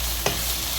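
Mutton mince with black pepper, paprika, oregano and chili sauce sizzling in a frying pan, with a single quick stir scrape partway through over a steady low frying hiss.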